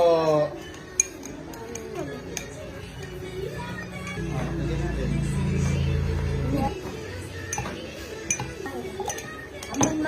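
A metal spoon clinks repeatedly against a glass while stirring a Milo Dinosaur drink with condensed milk, the sharp taps scattered through the stretch and heard under people talking nearby.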